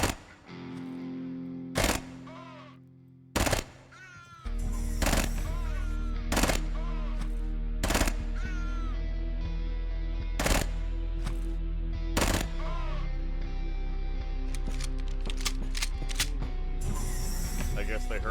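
Sharp bursts of gunfire in the video game Quasimorph crack repeatedly, some single shots and some rapid strings, over a droning, distorted soundtrack with a voice talking.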